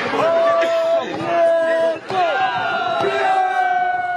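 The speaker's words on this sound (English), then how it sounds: "Raising the hands in the tunes of drums, the crowd cheers" A crowd raises loud, sustained cheers and shouts in overlapping waves during prayers, offerings and dances to drums.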